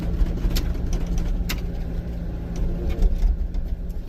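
A vehicle drives up a snowy road, its engine a steady low rumble that sits near and constant under faint clicks and rattles, with no one speaking.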